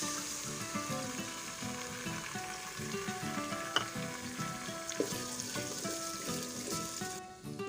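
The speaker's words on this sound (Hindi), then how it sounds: "तो अब हम शामिल करेंगे इसमें दही।" Yogurt goes into a pan of spices and garlic frying in oil in a home kitchen, giving a steady, moderately loud sizzle with faint stirring clinks throughout.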